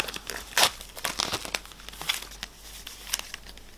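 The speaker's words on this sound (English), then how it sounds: "let's take off the cellophane and open it up and see what we get with this" Cellophane wrapping is torn and crinkled off a Fleetwood Mac Rumours 4-disc CD box set, close up, in a series of sharp crackling rips and rustles.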